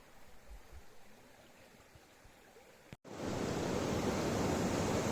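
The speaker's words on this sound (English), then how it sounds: "I'm not sure how well the sound is going to come out over the sound of the river" Rushing river water heard up close, a steady broadband wash that jumps sharply louder after a brief dropout near the middle, filling the rest of the clip with no talk.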